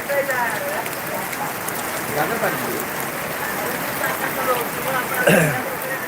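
Unseasonal rain pours onto the vegetable market in Boisar, Palghar district, a heavy, continuous patter on surfaces with running water, while voices murmur underneath.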